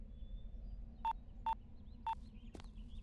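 A telephone keypad being dialled gives three short, evenly spaced electronic beeps over a quiet, low-humming room, followed by a brief higher chirp.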